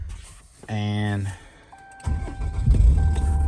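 A truck fitted with a G56 manual transmission starts up: a short tonal whine, a brief lull, then the engine catches into a low rumbling idle with a steady warning chime above it.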